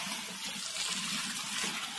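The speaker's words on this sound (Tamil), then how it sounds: "தண்ணி கொஞ்சம் ஆட் பண்ணிக்கிறோம்." Water poured into biryani masala of chili powder and garam masala for Walajapet plain dum kuska biryani, a steady continuous splashing rush with no talk.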